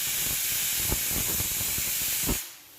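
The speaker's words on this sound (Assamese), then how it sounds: "এতিয়া আমি 5টামান চিটি অহালৈকে সিজাই থাকিম।" Steady loud hissing steam jet from a pressure cooker cooking mutton curry, with faint rattling pulses underneath, cutting off abruptly near the end.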